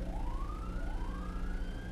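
Wailing police and ambulance sirens in a video game rise steadily in pitch, two overlapping tones climbing together over a constant low engine hum, fairly close and loud.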